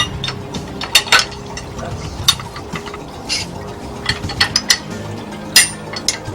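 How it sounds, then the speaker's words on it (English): A plastic-and-metal visor accessory snaps onto a GRCS rigging control frame in a scatter of crisp clicks and ratcheting ticks, close and moderately loud over a steady background hum. "We call it the visor, and it takes just a few seconds to snap it on."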